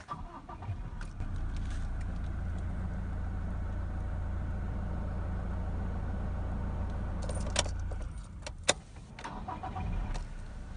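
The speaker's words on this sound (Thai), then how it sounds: "สตาร์ทรถสิ มาดูสตาร์ทกันมา" Toyota Revo 2.8 J Plus pickup from 2017 with a manual gearbox, its diesel engine starting and then settling into a steady low idle, heard up close from the cab, with a few sharp clicks and key jingles near the end.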